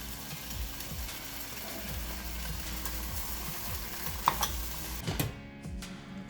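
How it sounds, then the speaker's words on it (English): Sliced ham sizzles and fries steadily in a pan as it warms for croissant sandwiches, a constant close crackle with a few light clinks of a utensil against the pan near the end. "I think I'm going to heat my ham first. I'm gonna warm the meat first, then put it on the croissant."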